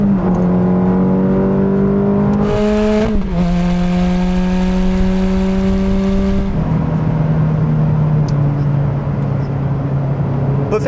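A Ferrari F430 engine accelerating hard through the gears, loud, close rising drone with a sharp gear change and a long pull, then settling to a lower tone.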